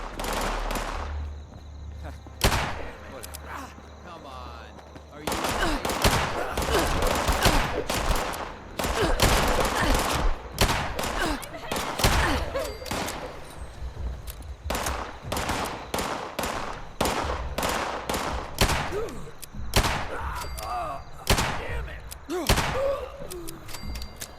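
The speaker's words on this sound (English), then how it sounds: "There's a bunch of shooting going on." Rapid bursts of gunfire in Fallout 76, repeated volleys of shots rattling across the whole stretch with brief gaps, loud and close, with occasional voices underneath.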